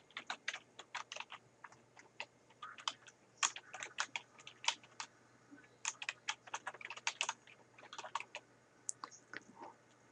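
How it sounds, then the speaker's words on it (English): A web address is typed on a computer keyboard: a close, dry run of rapid, irregular key clicks with brief pauses between bursts, with no voices. "In the address area, I'm going to type in www.voyagertraveladventures.net."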